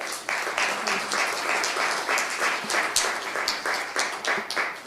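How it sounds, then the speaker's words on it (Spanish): Audience applause after a speaker at a talk on biogas and biomethane in Mexico, a crisp, fairly loud crowd clapping with some distinct individual claps standing out, sustained throughout without talk. "Les pediría un fuerte aplauso para Cristi nuevamente."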